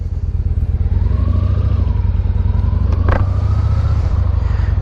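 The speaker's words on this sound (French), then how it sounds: "c'est toujours une moto super sympa à conduire, surtout dans ce cadre scrambler" A Yamaha scrambler motorcycle with a twin-cylinder engine runs steadily while being ridden, giving a loud, close, even throbbing pulse with wind noise and a brief clatter partway through.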